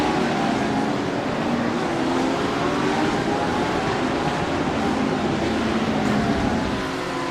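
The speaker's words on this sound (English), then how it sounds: "Philip in the Red Bull red Porsche machine, 3 wide into the corner here." GT3 race cars, including a Porsche, a Lamborghini and a BMW, running three wide into a corner in a racing video game, with a steady dense roar of engines throughout, loud and continuous.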